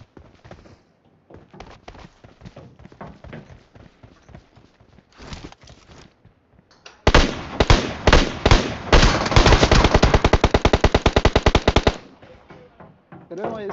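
Automatic gunfire in a PUBG-style battle royale game fought around a school apartment: scattered distant shots under a voice, then a loud, close, sustained burst of rapid machine-gun fire lasting several seconds.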